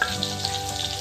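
Chopped garlic sizzling in melted butter for creamy carbonara, a short, steady close-up crackle with faint background music.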